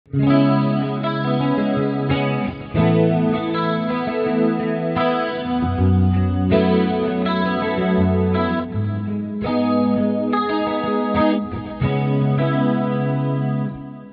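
Electric guitar with bright mode off through a Fractal Audio FM3 amp modeler, PRS guitar, playing sustained chords with a chorus-like effect and a warm, mellow tone lacking sharp treble.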